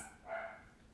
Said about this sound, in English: Sorry that my dog's barking again.